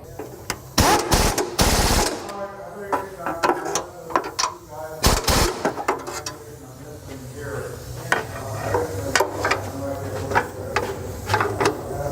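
A hand ratchet clicks in bursts while tightening nuts onto exhaust studs, with short rapid runs of ratcheting separated by pauses and handling noise, close to the listener.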